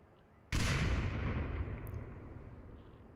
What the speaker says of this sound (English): Grenades coming to check the objective